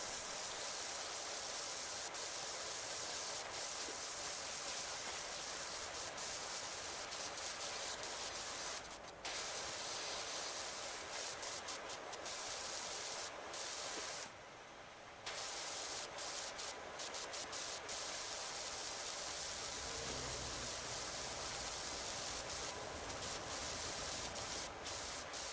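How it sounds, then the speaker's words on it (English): Pressure washer spraying water in the video game PowerWash Simulator 2: a steady, dense broadband hiss that runs almost unbroken, with one brief cutoff partway through before the spray resumes. "I'm not spraying water into the house"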